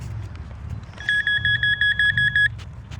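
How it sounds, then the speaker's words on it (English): A rapid series of high electronic beeps from a Nokta Makro metal detector pinpointer searching an old train station and tracks, about a dozen evenly spaced pulses over a low rumbling background. "Faster it beeps, it seems like the closer you are to the item."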